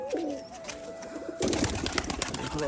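Giribaj pigeons coo in low, soft repeated calls, with a rustling burst partway through as the birds shift or flap nearby.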